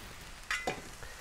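Beyond Burger patties frying on a Blackstone griddle with a crust forming, giving a faint sizzle with two brief, sharper hisses spattering up in quick succession and no voices.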